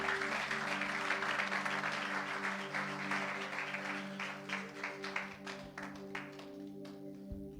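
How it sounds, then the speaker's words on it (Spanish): A church congregation applauds in a steady, loud wash of clapping that slowly thins toward the end, with a sustained musical drone underneath. "Dale un fuerte aplauso al Espíritu de Dios."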